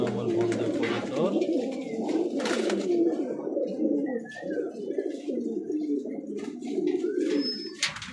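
Pet pigeons cooing steadily in a throaty, rolling chorus, close by, with occasional faint clicks and brief higher chirps, no talk over it.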